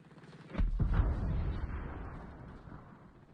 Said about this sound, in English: Oh, I'm hearing explosions.